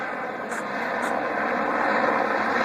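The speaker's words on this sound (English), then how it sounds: "Well, we had a helicopter." Police helicopter circling over a house in Moreno Valley, California, a steady broadband rotor and engine roar that holds loud and continuous and swells slightly as it passes, with some voices in the background.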